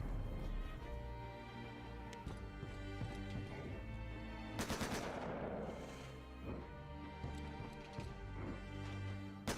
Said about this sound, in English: Oh, they're still shooting the decoy.